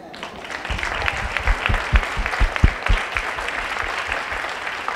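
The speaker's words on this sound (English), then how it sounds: "Let's give them both another round of applause" Audience applause at a conversation event with Dr. Opal Lee: dense, steady clapping from a crowd with a few sharper, louder claps standing out, sustained throughout and free of speech.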